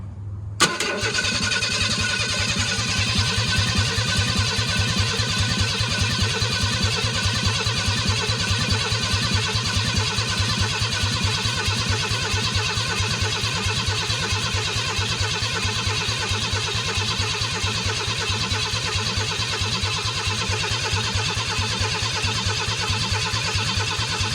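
The engine of a 1991 Ford F-150 cranks on the starter for a long stretch after a short initial click, a loud, rapid, even chugging that never catches, with no voices over it.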